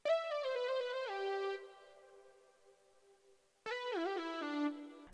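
Short synth lead pattern from an XV5080 MG lead patch in an FL Studio beat, a bright gliding melodic phrase that plays, pauses for about two seconds, then returns, fairly quiet and alone.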